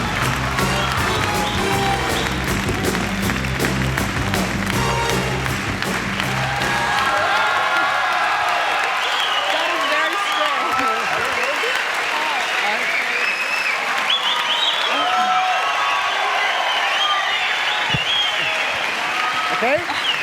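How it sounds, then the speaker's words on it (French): A TV studio audience applauds and cheers loudly for a sustained stretch, dense clapping with occasional whoops, while music plays under it at first and a presenter's voice is faintly present. "Applaudissements, mesdames, messieurs"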